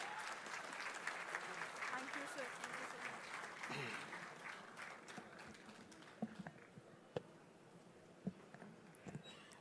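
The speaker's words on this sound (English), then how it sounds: "give a huge round of applause" Applause ripples through the audience at a public gathering, a steady patter of clapping that fades into scattered claps and a few sharp knocks, with voices audible underneath.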